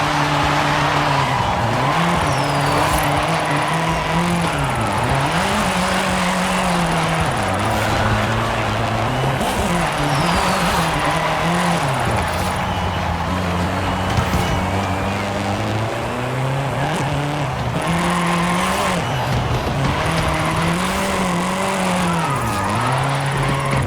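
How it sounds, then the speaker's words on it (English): A Mercedes Sprinter van drifts down a runway in Forza 5, its engine droning and revving steadily with wavering pitch throughout, loud and continuous, with faint tire noise mixed in. "So just drift it down the runway."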